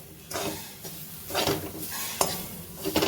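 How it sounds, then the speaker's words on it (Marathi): Grated fresh coconut being stir-fried with barnyard millet in a pan, heard as a series of scraping and clinking spatula strokes against the pan with faint sizzling underneath, close by and without speech. "आता भगरीबरोबर हे खोबरं पण मी छान परतून घेणार आहे"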